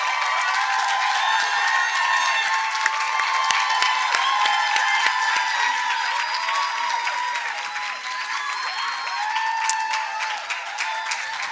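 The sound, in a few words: audience applauding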